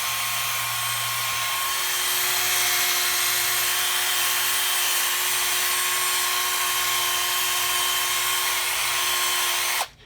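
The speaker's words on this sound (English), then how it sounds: "the idea is to just sand it with the pad, and then once it's cleared up like that, you can see the metal" A power sanding pad polishes a Toyota 2ZZ-GE valve cover, giving a loud, steady, high-pitched whir that runs without a break for about ten seconds and then cuts off abruptly at the end.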